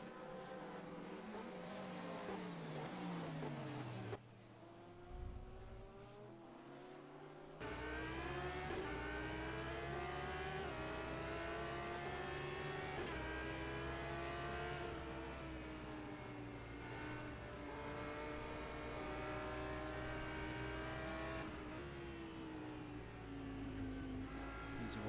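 A GT race car in the rFactor 2 racing game at the Shanghai circuit accelerates hard, its engine note loud and continuous with rising, shifting pitch as it pulls through the gears, steady throughout with no talk.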